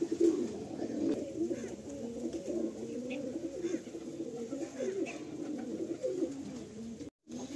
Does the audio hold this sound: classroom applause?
no